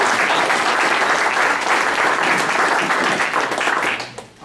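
A touchdown club meeting crowd claps for local football coaches, a loud and dense round of applause that holds steady before tapering off abruptly at the end.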